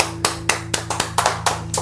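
A church congregation claps in praise during worship, a quick rhythmic run of sharp handclaps about four per second, close and alone.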